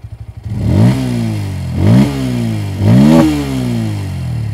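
Loud, close revving from a Bajaj Pulsar P150's underbelly exhaust, blipped three times up toward 9,000-10,000 RPM, each climb sharp and each drop easing back to a pulsing idle, with no speech.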